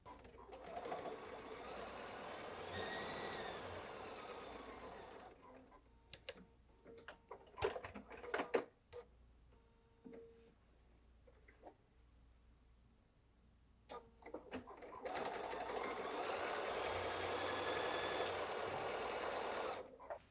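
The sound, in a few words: sewing machine stitching quilt block seams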